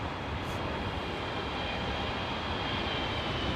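Airliner at Heathrow Airport roars past in high winds as a dense, constant broadband rumble, loud and unbroken, with wind noise blended into the engine roar.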